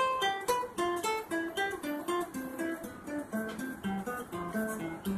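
A guitar plays a scale in diatonic thirds descending, a steady run of paired plucked notes stepping downward, clear and close with no talking.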